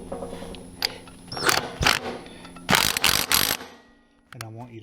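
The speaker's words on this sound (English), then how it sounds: "I want you to tighten this nut. I want you to hit it with the impact wrench." An impact wrench tightens a nut on a Troy-Bilt Super Bronco tiller in two short, loud, close rattling bursts, the second longer, over a running engine hum.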